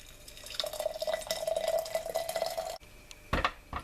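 Freshly boiled water pours into a cup holding cloves for a hot toddy, a steady stream lasting about two seconds, then a brief pause and a sharp clink of crockery.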